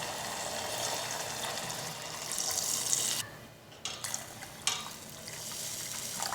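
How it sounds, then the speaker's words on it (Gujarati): Water pours into a pressure cooker of green tuvar beans being sautéed for a dhokli curry, a steady rushing splash that breaks off briefly midway, then resumes with small clinks, fairly quiet and with no voices. "બે ગ્લાસ જેટલું પાણી ઉમેરેલું છે।"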